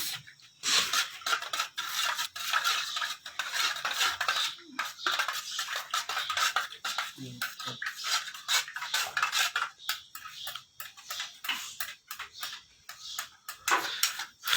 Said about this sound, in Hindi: ये ले लें, कलर इसके अंदर डालें और इसको अच्छी तरह से मिक्स कर लेंगे।